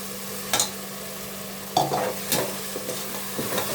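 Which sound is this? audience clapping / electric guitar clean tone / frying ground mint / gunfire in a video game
frying ground mint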